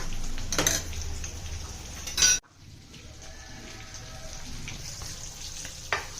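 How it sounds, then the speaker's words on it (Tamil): Spices crackle and sizzle in hot oil as tempering for goat intestine gravy, with a metal spoon clinking against the pan now and then. "இப்போ நான் ரசத்துக்கும் போட்டிக்கு 2க்கும் சேர்த்து தாளிக்கிறேன்."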